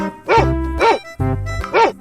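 Cartoon dog barking in a 3D animal slide video game, three loud, evenly spaced barks close up, the last pair of barks separated by a brief pause, with no talking over them.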